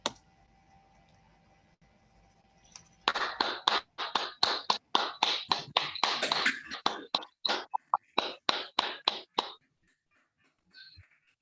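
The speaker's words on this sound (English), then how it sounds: "Can we give some applause for the framework?" After a few quiet seconds, a small group breaks into sharp, distinct claps at an online launch of a framework for women's financial inclusion in Nigeria, close and crisp, thinning out before fading to silence.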